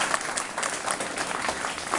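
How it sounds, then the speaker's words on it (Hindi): Villagers and school community members at a Republic Day welcome gathering clap loudly, a dense sustained burst of many hands with a faint crowd murmur beneath. "जोरदार ताली बजाएं आप लोग।"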